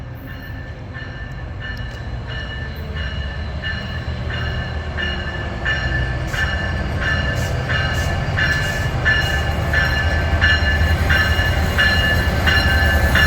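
A CN tanker freight train rumbles past steadily, wheels clicking rhythmically over rail joints, loud and continuous with a low roar throughout.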